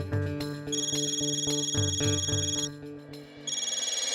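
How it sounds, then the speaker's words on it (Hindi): A phone rings with a steady electronic ringtone, repeated tonal bursts over background music in a comedy scene at home, pausing briefly before ringing again. "टप्पू, जा जा जा, तेरा फोन बज रहा है।"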